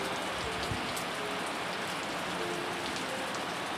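Steady rain falls outdoors, a continuous even hiss of drops on surfaces that holds the same level from start to finish, with no talking.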